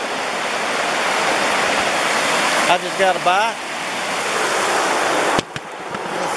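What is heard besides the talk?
waterfall in Pisgah National Forest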